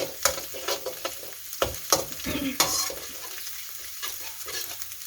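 Chili curry paste for a Thai stir-fried bean and shrimp dish sizzles in a pan while being stirred, with repeated scraping strokes and clinks of the utensil against the pan, close and fairly quiet.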